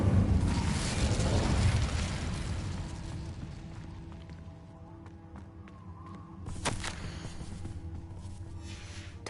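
Incendio fire spell in the Hogwarts Legacy video game: a loud whooshing, rumbling burst at the start that fades into quieter ambience, followed by a few soft thumps and a sharper crack later on.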